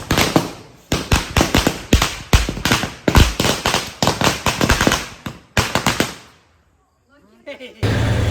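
Firecrackers set off during a festive celebration, bursting in rapid close, loud cracks for several seconds, then a brief lull and a final renewed burst.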